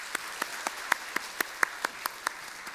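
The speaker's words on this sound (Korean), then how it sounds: "잘 다녀오라고 여러분 박수로 해주시기 바랍니다" Sparse clapping from a church congregation during a Sunday service, about a dozen distinct claps in a slow, uneven rhythm, fairly quiet and without voices.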